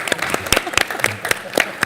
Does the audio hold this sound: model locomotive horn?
no